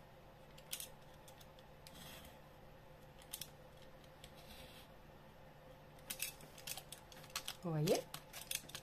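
Scissors snip through a Christmas card while cutting out squares, with a few quiet, scattered cuts and rustles close by and a soft voice speaking briefly.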